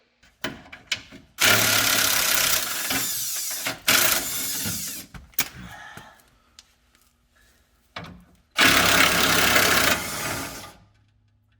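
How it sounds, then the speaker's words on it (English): Three loud bursts from an impact wrench driving a 15 mm socket as it removes the cover-plate bolts of a 4WD actuator on a 2007 Chevy 2500, each burst roughly two seconds long, separated by clicks and handling noise. "you get yourself 15 millimeter socket, impact, take these 4 bolts off"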